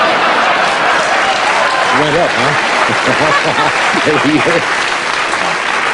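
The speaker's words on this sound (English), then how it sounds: "That's the longest milking of applause I have ever seen in my life." A studio audience on a 1987 Tonight Show keeps up loud, sustained applause as someone talks over it in the middle of the clip.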